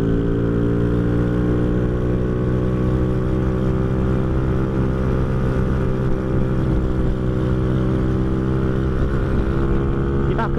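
A motorcycle ridden at night on a quiet road, its engine a loud, steady droning hum close up with a constant tone and small shifts in rev throughout.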